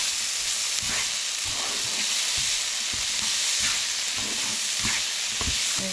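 Tomatoes frying in a pan with garlic and chilli for prawn puri, a steady loud sizzle and hiss with occasional stirring scrapes and clinks, close up and without any talking.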